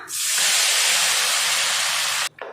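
Chopped tomatoes hit hot ghee with spices and cardamom, setting off a loud, steady hiss and sizzle that lasts about two seconds and cuts off abruptly, heard close with no talk.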